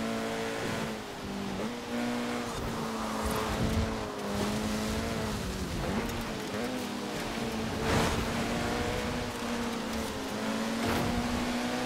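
A VW Golf in the Forza Horizon 4 racing game drives steadily, its engine holding a continuous droning tone with slight pitch shifts and faint tire noise, loud and close throughout.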